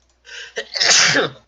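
A single loud, close sneeze at a tabletop Pathfinder game session, a short sharp intake followed by a forceful burst of breath.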